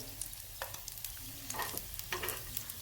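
Bread cutlets shallow frying in a little oil in a pan, a soft sizzle broken by several sharp crackles and pops, quiet overall with no talking.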